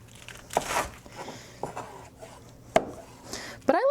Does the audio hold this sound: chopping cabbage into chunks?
yes